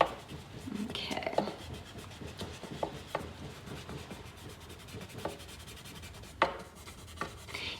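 A finger or blender rubbing over a textured dragon drawing to blend shading: soft, close, irregular rubbing and scuffing strokes on paper with occasional light taps, under quiet speech.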